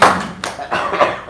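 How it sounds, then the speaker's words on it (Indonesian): A few close, sharp hand claps come in about three separate bursts at an informal indoor gathering, with loud, uneven spacing and little talk around them. "Wow, tepuk tangan lu dong."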